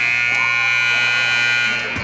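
A loud, continuous buzzer blares for about two seconds to end the half at a boys varsity high school basketball game between West Rutland and Poultney. It tapers slightly at the very end.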